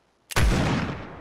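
A single Fortnite gunshot cracks loud and close, a sharp attack followed by a booming tail that decays over about a second, alone without talk.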